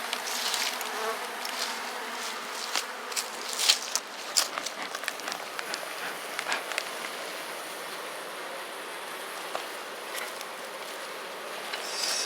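Bees buzz in front of beehives in the evening, a dense, continuous hum with individual insects darting close past the microphone in brief louder passes, and no voices.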